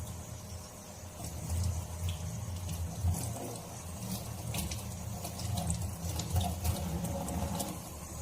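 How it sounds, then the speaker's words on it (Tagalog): Tap water flows steadily over hands being rinsed clean of soap, a continuous close splashing wash with slight fluctuations and no talking. "from rinse going down to our hands from the flowing water to remove all dirts and soaps"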